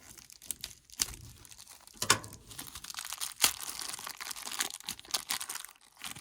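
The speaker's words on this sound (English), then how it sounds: "I am going to have to cut this bag open." Plastic zipper bag holding armor pieces for a fantasy action figure being opened, with crinkling and crackling rustles and a few sharper snaps, close and fairly quiet.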